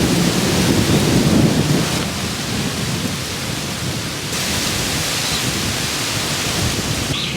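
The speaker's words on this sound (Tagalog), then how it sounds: "ang lakas ng hangin" A strong wind roars loudly and continuously, a broad rushing storm noise that eases slightly midway and then builds again.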